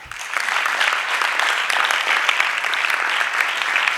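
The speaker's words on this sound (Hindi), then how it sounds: "ताली बजाओ इस बात पे।" Dense, steady clapping from an audience at a spiritual lecture fills the whole stretch, loud and sustained with no voices over it.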